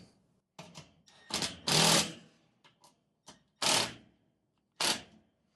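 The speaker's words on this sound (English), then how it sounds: "put the nut on by hand, and then go ahead and tighten it down" A bolt and nut being tightened on a garage storage rack, with a series of short, sharp ratcheting clicks and metallic bursts in irregular rhythm, close and fairly quiet with silence between.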